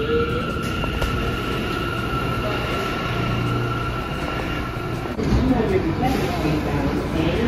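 Subway A train rolling past with a loud, continuous metallic rumble and hiss that holds steady, then swells slightly after about five seconds, close by.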